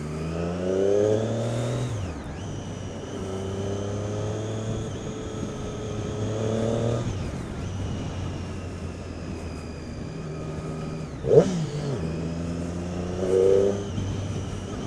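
A Triumph Daytona 675 motorcycle engine on a road ride, rising through the revs in repeated pulls with gear changes between them, loud and close, with a steady drone and wind rush.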